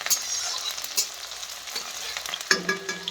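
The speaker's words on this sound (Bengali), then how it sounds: "পেঁয়াজটা গরম হয়ে যাচ্ছে" Chopped onions and green chilies sizzle in a hot pan while being stirred, a busy frying hiss with scraping stir sounds and a louder clatter near the end.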